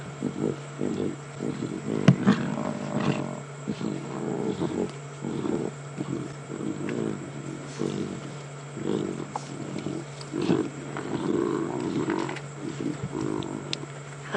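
Lion cubs feeding on a live safari drive in the bush, with repeated close, low growls and rumbling snarls over a steady low hum, continuing throughout with scattered sharper snaps.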